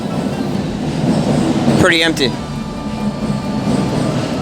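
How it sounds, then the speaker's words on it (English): A long train passes through a station in Japan, a loud rumbling rush with a brief sharp screech of a horn or brakes near the middle, while a person speaks briefly over it. "Okay, I think the train is coming."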